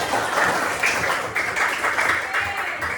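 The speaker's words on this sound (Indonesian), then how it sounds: "Oke, tepuk tangan dulu" A group applauds during a classroom lesson, with steady clapping lasting about three seconds.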